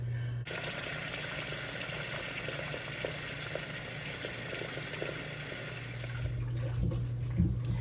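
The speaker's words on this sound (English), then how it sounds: "as I'm wiping these cucumbers off, I put them in cold water, put ice in the cold water as well" Water runs and sloshes steadily as cucumbers are washed in cold water, a close, continuous wash of splashing that shifts slightly near the end.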